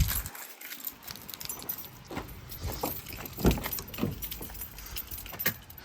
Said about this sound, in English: Got my keys on me. Where are my keys?